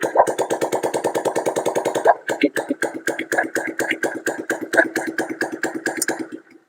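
A Bajaj Pulsar 150 motorcycle engine with its silencer removed starts up and runs, a loud, close, rapid pulsing chug that steadies into an uneven open-exhaust idle before cutting off near the end.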